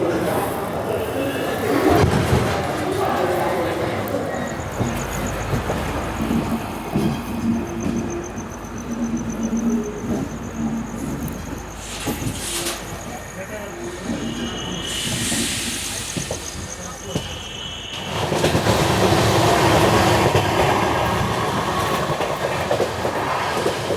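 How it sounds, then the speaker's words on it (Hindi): Mumbai Hyderabad SF Express pulling out of Daund Junction after its halt: a steady rumble of the train rolling with hissing and faint clatter, a long high whistle-like tone across the middle, and a louder surge near the end. "तो लगभग 20 मिनट के हॉल्ट के बाद 8:38 पर हमारी ट्रेन निकल रही है दौंड जंक्शन से।"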